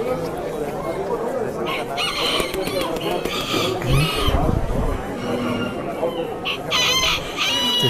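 Aztec gamecock roosters crow at a Houston poultry expo: several loud, ringing cock-a-doodle-doos rise over steady crowd chatter and clucking, with someone talking nearby throughout.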